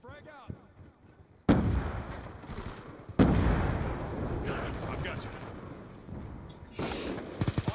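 A frag grenade goes off in a Black Ops II multiplayer match: a heavy, booming blast bursts in suddenly, followed by a second louder explosion and a dense rumble of gunfire and battle noise that continues to the end.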